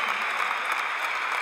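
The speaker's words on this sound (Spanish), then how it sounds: "Fuerte aplauso para todos ellos." A live concert crowd applauds in a dense, steady wash of clapping that holds at an even, loud level.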